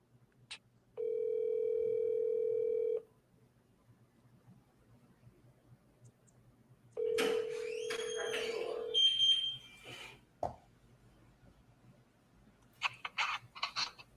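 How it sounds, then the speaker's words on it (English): Ringback tone of an outgoing telephone call, heard as two long, steady rings separated by a silent gap, followed by brief clicks and short bursts of other sound. No speech is heard. "You hear it ringing?"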